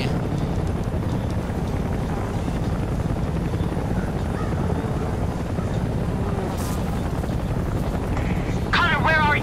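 A helicopter in the war video game Homefront churns with a steady low rotor drone that fills the whole stretch, with game noise and voices underneath.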